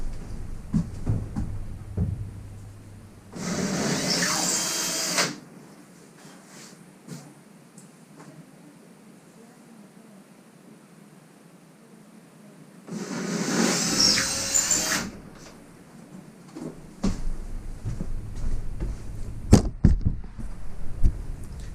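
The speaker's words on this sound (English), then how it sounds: "if you're drilling the drywall anchors in, you're going to want to use the bigger bit for the appropriate size." A power drill bores drywall anchor holes in two separate bursts of about two seconds each, close by with a steady high whir, divided by a long quiet gap.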